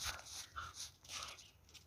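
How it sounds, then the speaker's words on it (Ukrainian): A neighbour's dog whimpers and pants softly in a few short breathy bursts, faint and close, with no speech. "Он ще прийшов сусідський пес провідати її."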